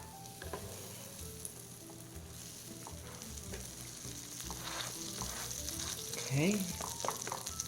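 A garlic bread grilled cheese sandwich sizzles steadily in a frying pan, a soft, constant fry heard close under a brief spoken word, with a faint scrape near the end.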